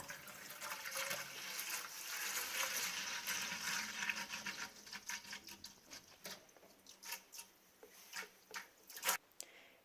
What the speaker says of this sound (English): This is gallon number 2 that we're pouring in.